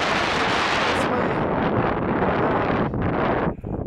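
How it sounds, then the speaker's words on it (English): Strong wind roars across the microphone on the Table Mountain summit in Kananaskis Country, a loud, continuous broadband rush that briefly dips near the end before gusting again. "windy up here."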